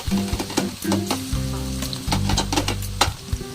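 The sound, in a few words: cloves, cumin and green chillies frying in a kadai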